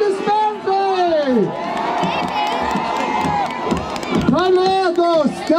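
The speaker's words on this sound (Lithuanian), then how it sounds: "Gausus aplodismentai!" A Christmas tree lighting crowd in Panevėžys cheers loudly and continuously, with shouting children, whoops and scattered clapping, while an amplified host's voice rises over the din at the start and near the end.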